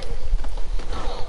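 A horse gallops in Red Dead Redemption 2, with quick, loud, close hoofbeats in a driving rhythm and a faint voice in the background.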